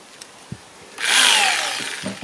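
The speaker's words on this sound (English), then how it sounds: "and start drilling the hole." A power tool drills a starter hole for a homemade van-life air conditioner, a loud whirring burst about a second long after a few faint knocks.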